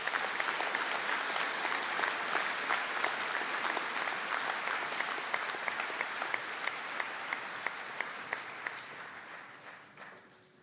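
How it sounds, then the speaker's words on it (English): Audience applause for graduates at a conferring ceremony in Donegal, a steady wash of many hands clapping that holds for about ten seconds before tapering off at the end. "A round of applause, please, for the graduates."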